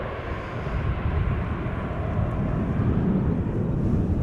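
KLM aircraft Orange Pride passing at Schiphol Airport, a steady broad low roar of jet engines that swells slightly and holds, heard from a distance with no talk.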